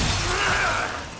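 A shatter effect in a video game sounds as a loud, broad burst of crackling and splintering noise that fades over about a second, with a faint tonal sweep running through it.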